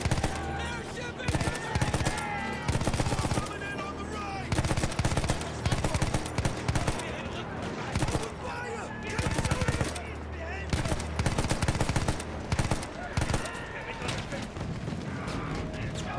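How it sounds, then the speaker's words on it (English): Battlefield 1 turret machine gun hammering in long sustained bursts with brief pauses, loud and close, amid other battlefield gunfire and a voice talking over it. "Got some nice turret bloody machine gun here."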